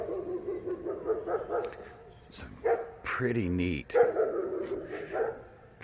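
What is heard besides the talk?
dogs barking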